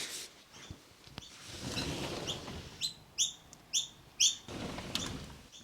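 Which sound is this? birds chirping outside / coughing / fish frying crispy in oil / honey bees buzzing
birds chirping outside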